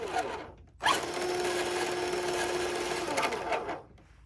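An RC Hummer H2 four-wheel-drive crawler's electric motor whirs up with a sudden onset, holds a steady high-pitched whine for about three seconds, then spins down, loud and close.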